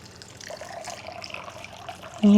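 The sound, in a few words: weak water running from tap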